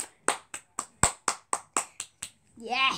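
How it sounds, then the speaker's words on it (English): About ten crisp hand claps land in a steady, evenly spaced rhythm, fairly close, followed by a short burst of voice at the end. "Give him a clap."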